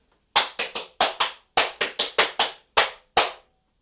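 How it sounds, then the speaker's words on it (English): Crisp tap dance steps strike the floor in quick rhythmic clusters, about a dozen sharp clicks in a lilting waltz clog pattern. "Waltz clogs sound like this."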